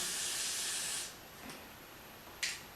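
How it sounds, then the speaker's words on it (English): Hairspray sprays into hair with a steady aerosol hiss for about a second, followed by a brief softer puff and then a short sharp spritz, close by and fairly quiet. "I'm going to be using the spray, just spraying it in there."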